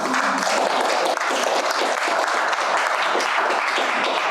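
An audience gives dense, sustained applause after a poem reading at a festival panel on human and river health. The clapping is loud and continuous from start to finish.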